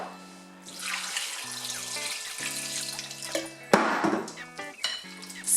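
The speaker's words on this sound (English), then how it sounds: "So I'll wash this in water, rinse it, strain it about 3 times before I actually use it." Anchovies being rinsed in a bowl of water, with steady splashing and sloshing close by, a few clinks of a pot or utensil, and a sharper burst of water movement partway through.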